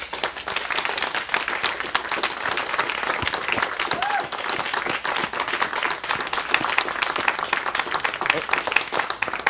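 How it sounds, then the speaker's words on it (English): Town hall audience applauding during a show-of-hands style vote at a bear baiting meeting, a dense, steady wash of many hands clapping that fills the room continuously at moderate loudness. "Those who believe no, please applaud."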